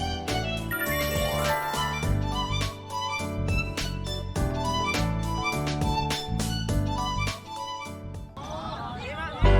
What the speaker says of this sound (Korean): 소리로 확실히 알려주는 장치를 만든 거예요.